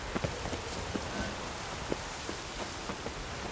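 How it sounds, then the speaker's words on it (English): Steady rain falls in The Witcher 3, a dense, even hiss with scattered drop patters and faint hoof-like clops, all without talk. "Rain makes this city even more dreary."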